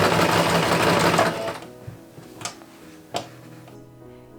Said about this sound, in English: Using the longest stitches on my machine, I sewed 2 lines of basting stitches to the front and back collar.